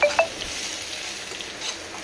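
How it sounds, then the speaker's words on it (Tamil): Steady sizzling of spice powder and curry leaves frying in hot oil for pepper rasam, with a couple of faint clinks near the start and a continuous crackle throughout. "அந்த எண்ணெயிலேயே இது வந்து தாளிக்கிற பதத்துக்கு நீங்கள் வதக்கி கொடுக்கணும்"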